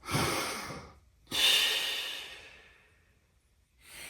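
Breathing during a beginner Pilates mat stretch: two long, airy breaths, each a sharp intake easing into a slow fading exhale, close to the microphone, with a third breath starting at the end.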